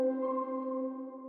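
Single key one-shot sample from the Nebula one-shot kit, one soft sustained tone with steady layered overtones holding for just over a second, fairly quiet and alone.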